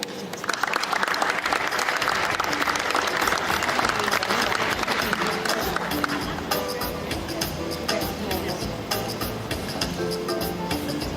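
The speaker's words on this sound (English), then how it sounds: "Please a round of applause for the general manager, Kwese, Chii Nwoko" Loud, dense audience applause at a panel discussion on African entertainment, greeting the general manager of Kwese as a panelist, with sustained clapping that thins slightly toward the end and a little crowd noise mixed in.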